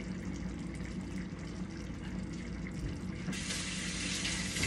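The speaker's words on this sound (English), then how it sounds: "You hear that bubbling?" Pot of spaghetti water bubbling on a home stove, a steady dense rushing and bubbling hiss that holds constant and grows slightly brighter and louder toward the end, close by with no speech.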